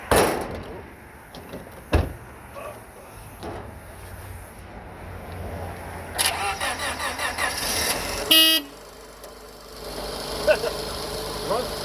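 A wrecked 2003 Honda Civic with a VTEC engine and 212,000 miles, left sitting for over ten years, starting up: rhythmic starter cranking, then the engine catches and runs, with door thuds and a brief horn-like tone nearby.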